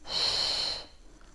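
A single deep, airy inhalation drawn in through the nose during a pregnancy exercise, close and clear, lasting under a second before fading to quiet.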